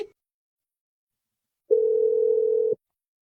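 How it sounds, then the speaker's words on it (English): A single steady ringback tone on an outgoing phone call during a radio prank-call segment, sounding alone for about a second after a stretch of silence. "Hold on, it's ringing."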